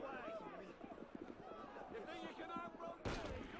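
Gunfire during a chase with police in Assassin's Creed Unity lands as one sharp burst near the end, after a stretch of speech and crowd commotion.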